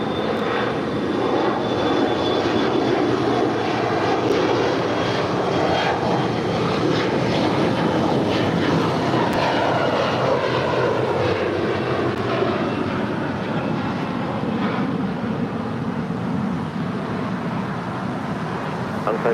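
A SkyWest airliner taking off from runway 25 right at LAX, its jet engines a loud, steady roar with a rising whine, continuous for the whole stretch and heard from a fair distance.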